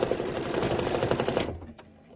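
An embroidery machine stitching a center tack-down on a quilted pillow block, rapid rhythmic needle chatter close by for about a second and a half, then stopping abruptly.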